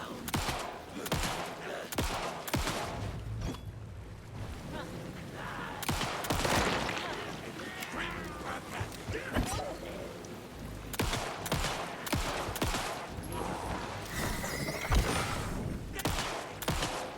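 Gunfire in the video game Alan Wake II, with repeated sharp shots in rapid bursts throughout, some overlapping, at moderate level with little talk.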